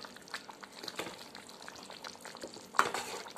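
A brinjal and dry fish curry is stirred in a pan: soft scraping and gentle sizzling, with a brief sharper clink of the spoon against the pan near the end.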